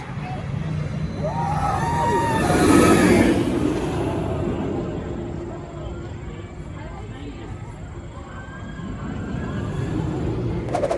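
Blue Rocket launched roller coaster at Kennywood amusement park, a steady broadband rumble of the running ride with a louder surge early on, mixed with crowd voices and chatter throughout.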